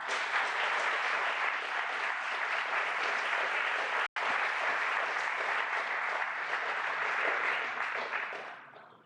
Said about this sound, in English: A big applause for Luise.